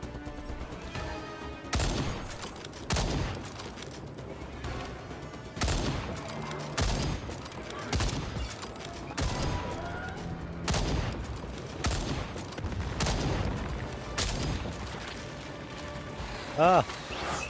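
Automated turret in the Second Extinction video game firing on dinosaurs, loud repeated bursts of rapid gunfire roughly every second with mechanical clatter between.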